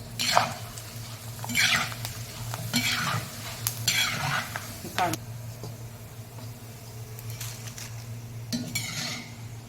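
Grated potato frying in oil for a fasting chivda, heard as a soft sizzle under bursts of scraping and clinking from a utensil against the pan, with a low steady hum beneath and a voice talking at times.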